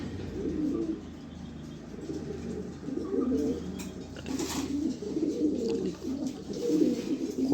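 A male pigeon from the AirPCT club coos close by in repeated low, rolling bursts separated by short pauses, with faint rustles in the background.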